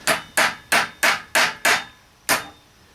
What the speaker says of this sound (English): Best tool for hammering is some channel locks.